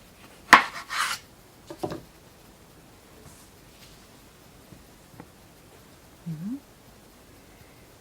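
Knife cutting through tangerines lengthwise in a village kitchen while baking a tangerine pie: a sharp cut and rustle near the start, a few brief scraping and tapping touches after, then quiet with one soft knock.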